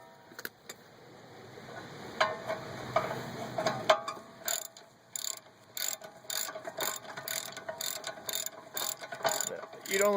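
A ratchet clicks through repeated strokes backing out the 16 mm rear brake caliper bracket bolts on a BMW E46 3 Series, close and crisp after a brief quiet stretch of handling noise, with no speech.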